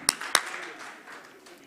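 An audience at a dinner event claps twice on cue: two sharp, separate claps in quick succession, followed by a low murmur of the room.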